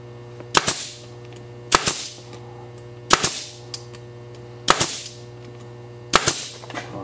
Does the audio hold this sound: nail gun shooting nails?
yes